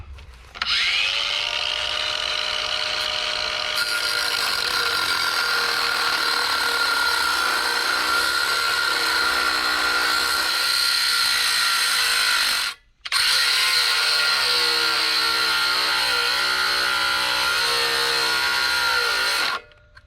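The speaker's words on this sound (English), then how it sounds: "got a cutoff wheel for this grinder, put a mark on there." A battery-powered angle grinder with a cutoff wheel cutting through a steel jack shaft for a torque converter build, a loud, sustained high whine with grinding metal, briefly stopping once before running on.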